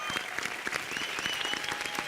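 Soft, steady clapping from a studio audience on a Hindi poetry show welcomes literary scholar Padma Shri Dr. Ashok Chakradhar and lyricist Sameer Anjaan to the stage.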